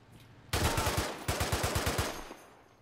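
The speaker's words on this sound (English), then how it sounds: "Who the hell's shooting at me now?" Automatic gunfire rings out in the WW2 shooter ArmA 3 Spearhead 1944 in two loud close bursts of rapid shots, each with an echoing tail.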